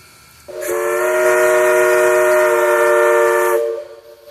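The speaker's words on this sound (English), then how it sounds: "the train finally leaves Grand Junction, southbound to Somerville, Georgia" A loud excursion train whistle blasts in one long sustained tone for about three seconds, harmonically rich, then cuts off, leaving quiet rumble, as the train leaves Grand Junction southbound.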